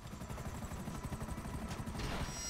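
Helicopter in GTA V Online, a steady low rotor chop with a whirring engine hum running continuously and fairly faint throughout the short stretch.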